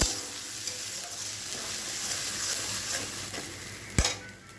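Ground spice masala with onion, green chilli and tomato fries in oil for a pomfret curry, making a dense, continuous sizzle with stirring scrapes and a sharp metallic clank near the end.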